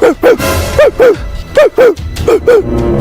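A person imitates a dog, letting out about eight loud, close barks in quick pairs with short gaps between them, as a punishment in a comedy skit.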